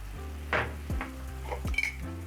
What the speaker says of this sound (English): Then I'll let my tomatoes cook together with the tomato paste.